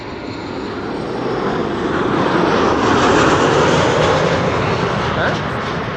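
A large airliner arriving at Amsterdam Schiphol Airport roars past in a loud, steady engine rush that swells toward the middle and holds, with voices faintly present under the noise.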